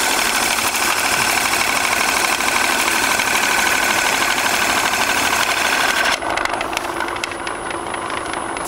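A wood lathe spins steadily while a tool turns a crematory urn, cutting long shavings, giving a loud continuous whirring drone throughout; the tone shifts and thins slightly near the end as the cut changes.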